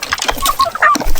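Native chickens on a farm give short, bright clucks and chirps, loud and close, in a quick irregular burst.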